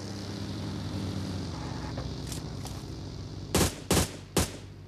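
Several sharp gunshot bursts crack out near the end over a steady background hum, sounding like video game gunfire.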